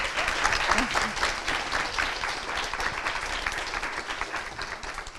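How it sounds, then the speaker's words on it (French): An audience at a research forum applauds with steady, dense clapping that stays loud throughout, close and sustained, with faint voices mixed in. "s'il vous plaît, applaudissez-la très fort"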